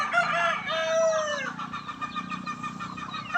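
Bulik breed chickens cluck and crow nearby, one rooster's drawn-out crow rising over continuous clucking from the flock, with no talk.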